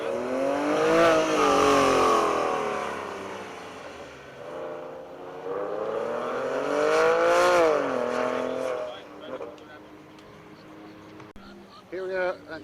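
A Porsche pulls away down the track at a Homestead-Miami track day, its engine note climbing and falling in pitch as it accelerates, loud and fairly close before fading with distance, with voices over it.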